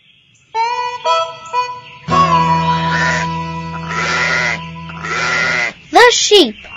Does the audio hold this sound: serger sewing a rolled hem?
no